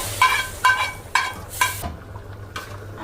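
Hot garlic tempering poured over cooked beef trotters, four quick loud bursts of crackling sizzle in an even rhythm, then the hiss drops away to near quiet with no talking.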